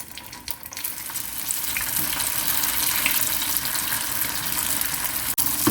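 Dumplings laid into a heated pan with plenty of oil, a steady crackling sizzle that holds throughout at an even level, close by and with no talking.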